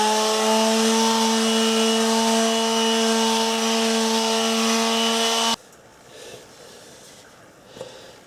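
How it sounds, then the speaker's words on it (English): Turned wood sanded on a lathe with a bunch of wood shavings, a loud steady whirring rasp with strong tonal hum that stops abruptly midway, followed by faint rustling and soft knocks. "just put a bunch of shavings down on the lathe bed and go at it"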